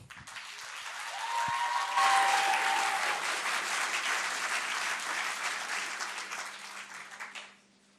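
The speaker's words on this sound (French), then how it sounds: "J'aimerais que vous le fassiez un tonnerre aussi d'applaudissements." Applause from an audience at a prize-giving in Marcoussis, swelling within a second into dense, steady clapping that holds for several seconds before cutting off sharply near the end.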